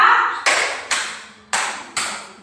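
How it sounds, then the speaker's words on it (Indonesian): A class of children claps together in a teacher-led counting game, with four crisp, roomy claps in a steady beat after a short bit of voice at the opening. "kita tepuk tangan dulu ya, biar suasana ceria"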